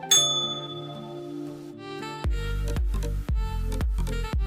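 A small bell rings with a bright ding, then is struck repeatedly in quick clanging hits that ring over one another.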